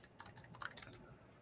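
Quick clicking keystrokes on a computer keyboard, a short burst of about a dozen taps, faint and close, with no voice over them.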